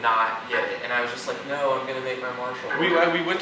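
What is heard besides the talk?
No distinct noise like a dog, phone or traffic.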